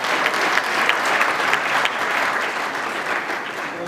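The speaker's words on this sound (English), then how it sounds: "Give them a round of applause." An audience at the 2019 Imo State gubernatorial election debate breaks into loud, dense clapping that stays steady and unbroken throughout, filling the hall.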